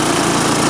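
Small single-cylinder engine of a Sears snowblower runs steadily at close range, a loud continuous droning putter with a slight surging quality and no voices.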